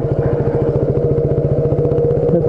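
A KTM motorcycle engine idles close by at night, a steady loud rhythmic thump with mechanical clatter, running alone without voices.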